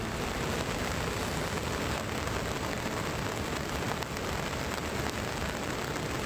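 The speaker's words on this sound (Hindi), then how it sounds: "बूढ़े केदार में जो लगातार बारिश हो रही है, जो भयंकर बारिश हो रही है" Heavy, continuous rain pours down during a cloudburst at Budha Kedar in Uttarakhand, a dense steady hiss that stays loud and unbroken throughout, with no voices.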